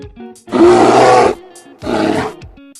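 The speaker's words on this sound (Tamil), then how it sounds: "இது கரடியோட கர்ஜனை" A loud, close bear roar sounds twice: a long rumbling bellow followed by a shorter one after a brief pause.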